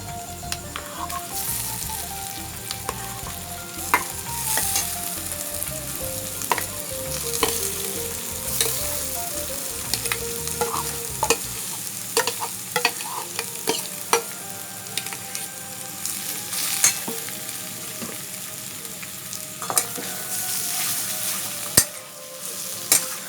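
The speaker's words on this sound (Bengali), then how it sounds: "এটা ভালো করে পেঁয়াজ, রসুন, আদা, লঙ্কার সাথে ভালো করে মেশাতে হবে" Potato being stirred in a pan with onion, garlic, ginger and chili, a steady sizzle of frying under repeated scraping and clattering strokes of a spatula, close and continuous with no talking.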